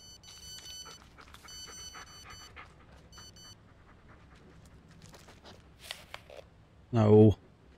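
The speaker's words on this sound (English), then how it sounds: "Oh, you scared me, dog." A dog pants in the Blair Witch video game, quick soft breaths running under game sounds and faint tones, ending in a short loud burst of noise.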